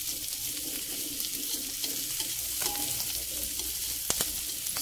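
Bird's eye chilies sautéing in a pan with softened onion, giving a steady, fairly quiet frying sizzle with occasional stirring clinks and scrapes, no voices.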